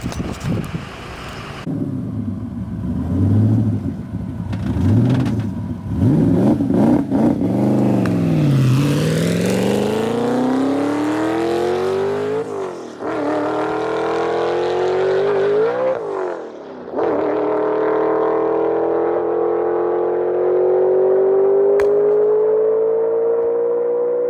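A very fast car accelerates hard at a motor facility, its engine climbing through rising revs with brief dips at each gear change. The sound is loud, close and continuous, with no talking.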